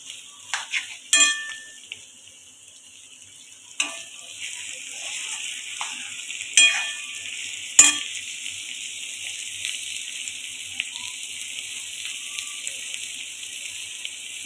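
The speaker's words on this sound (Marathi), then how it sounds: "ते सुद्धा हलक्या हाताने आपण असे परतून घ्यायचे" Fresh cashews sautéed in a pan, with a soft continuous sizzle broken by scattered sharp clinks of a spoon scraping and stirring against the pan.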